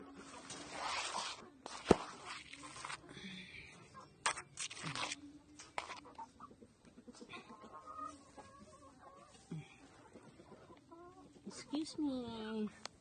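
Free-range Rhode Island Red and native chickens on an egg farm, scattered soft clucks and a few louder squawks at close range amid rustling and handling noises, with a person speaking at times.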